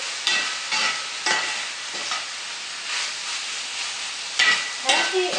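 Beef and green beans stir-fry with vinegar in a pan, a steady broadband sizzle broken by repeated scraping stirs roughly once a second, close and fairly loud, no talking.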